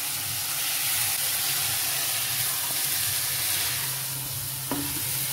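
Chicken with green chili and salt fries in a pan for a South Indian chicken stew, giving a steady close sizzle with faint stirring and a brief clink near the end.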